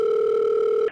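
A steady telephone dial tone, a clear continuous two-pitch hum lasting about a second and cutting off abruptly at the end, alone with no talk.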